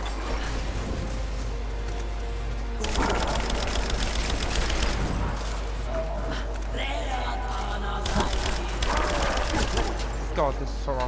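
Assault rifle fire in Rise of the Tomb Raider, loud bursts of rapid automatic shots that stop and start, with dense clatter and explosive booms under a constant low drone.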